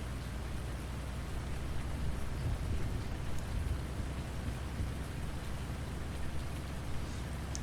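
Steady rain in the Farming Simulator 19 game world: a dense, even wash of patter with a heavy low rumble, continuous and fairly loud throughout, with no voices.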